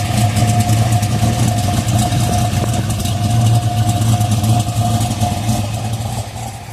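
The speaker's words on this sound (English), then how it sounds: "302 stroker, 4-bolt main, very, very special engine." A Ford Boss 302 stroker V8 with a 4-bolt main block idles steadily and loudly nearby, a deep even burble with a slight lope that holds for the whole stretch, no voices over it.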